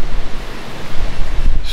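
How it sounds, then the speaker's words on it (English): Loud, rough wind rushes and gusts across the microphone during a bowhunt beneath a tree dropping acorns, a close, continuous roar with no voices. "Super windy."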